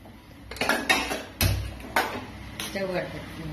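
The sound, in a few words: pressure cooker being placed on the stove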